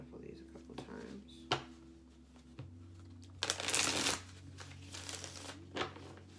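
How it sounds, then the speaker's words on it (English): A deck of tarot cards is shuffled close by in a few quiet riffling bursts, with a louder ruffle near the middle, over a low steady hum. "Let me shuffle these a couple times."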